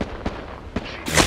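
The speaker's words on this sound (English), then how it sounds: "Getting shot at." Gunfire aimed at a squad in a shooter video game: a few sharp, spaced reports, moderately loud over a low rumble, with a brighter burst of noise at the end.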